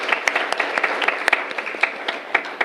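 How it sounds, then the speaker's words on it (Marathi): Audience at a Marathi poetry gathering applauds the poets, a brisk spread of individual hand claps with some sharper close claps standing out, moderately loud and without speech. "एकदा जोरदार टाळ्या वाजवूया सर्व कवी कवयित्रींसाठी."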